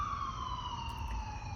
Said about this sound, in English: Sirens, that's gonna go for a second.